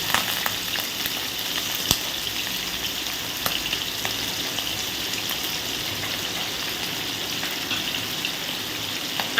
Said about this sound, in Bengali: এইভাবে চিংড়িগুলোকে আমি একটু ভেজে নেব